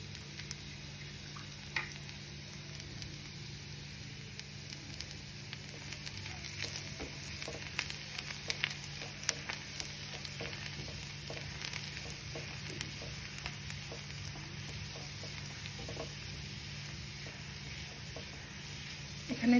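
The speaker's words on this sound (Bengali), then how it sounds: "গার্লিকটা একটু গোল্ডেন ব্রাউন হবে।" Garlic frying on high heat in a pan, a steady soft sizzle with occasional light stirring scrapes running throughout at low volume.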